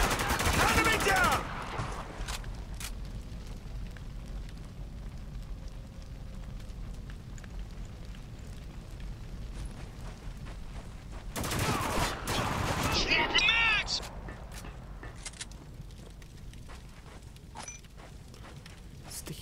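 Grenade blasts and rattling gunfire from the video game Spec Ops: The Line, with loud bursts at the start and again midway over a lower rumble of combat and occasional voices.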